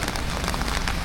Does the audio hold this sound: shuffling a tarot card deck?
no